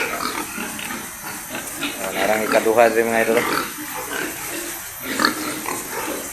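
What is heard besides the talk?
pigs grunting in a farm building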